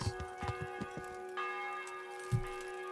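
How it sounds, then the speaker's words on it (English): Church bells ring in the medieval game Kingdom Come Deliverance, sounding alone and moderately distant. Several resonant strikes leave sustained, humming tones that hang in the air. "the church bells"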